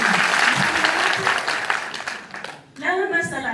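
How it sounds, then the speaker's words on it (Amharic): Applause from a large audience at a gathering in Gondar, a dense rattle of many hands clapping for nearly three seconds before fading, with a voice speaking over and after it. "በደንብ አጨብጭቡ እንጂ ደግሞ"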